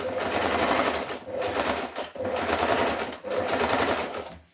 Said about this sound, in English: I've just set my machine at the longest stitch, making sure that I gather